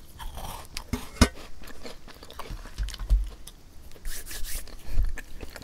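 Crunchy bites and chewing of a soft, melt-in-the-mouth Earl Grey cookie studded with tea leaves, close to the mic, with irregular crisp crunches and softer mastication over a few seconds.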